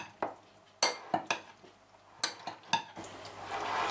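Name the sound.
stirring herring salad with olive oil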